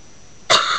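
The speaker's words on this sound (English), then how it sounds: "sorry if I'm coughing" A single short, harsh cough bursts out after a moment of quiet, close and fairly loud.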